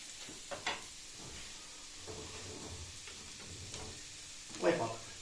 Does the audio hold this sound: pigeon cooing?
no